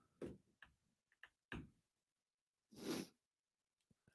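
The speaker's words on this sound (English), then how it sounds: "I sneezed." A single sharp sneeze from a sports radio host in a studio, a loud broadband burst standing alone after a few short clicks and ticks.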